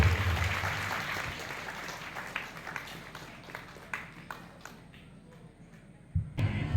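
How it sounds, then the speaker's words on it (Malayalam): At a residents association anniversary function in Koozhakode, Kozhikode, an audience's applause starts dense and loud, then thins into scattered claps and dies away, with a brief knock near the end. "നമ്മുടെ റെസിഡൻസ് അസോസിയേഷന്റെ ശക്തി പ്രകടമാക്കുന്ന കയ്യടികൾ വേദിയിൽ മുഴങ്ങണമെന്ന് അഭ്യർത്ഥിക്കുന്നു"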